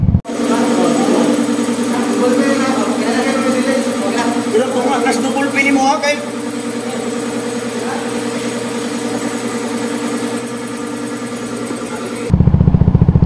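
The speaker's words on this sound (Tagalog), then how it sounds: "So kaya ganun yung andar ng motor natin na parang pumapalya." A CF Moto 300SR motorcycle engine with a dirty throttle body and a slightly burnt spark plug runs steadily close by, its uneven idle faintly sputtering, with a brief louder rev near the end.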